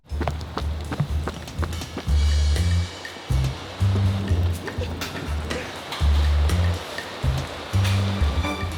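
Heavy rain falls on a go-kart race track, a dense, steady hiss broken by repeated low rumbling surges, with no voices.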